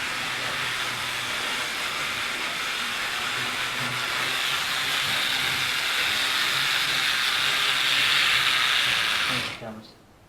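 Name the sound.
model train running on track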